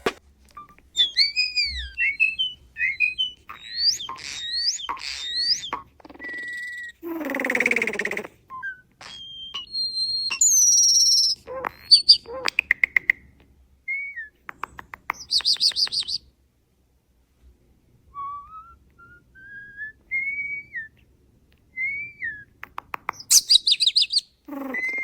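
Several birds chirp, whistle and call in quick, varied bursts, some sharp and near, others softer, with short pauses between phrases and a few descending whistled notes.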